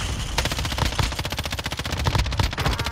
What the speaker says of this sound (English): Oh, they're still shooting at me.